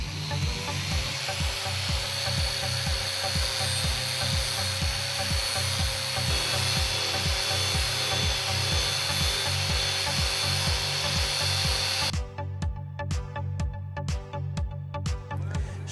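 A Big Buff finishing machine running at 7,000 RPM grinds down a weld on a flat metal surface, a loud, continuous high whine with rhythmic scraping pulses heard up close. It stops abruptly near the end, leaving quiet rattling.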